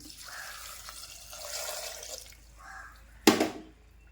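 Water trickles and splashes into a cooking pot in a few soft bursts, ending with a brief louder gush.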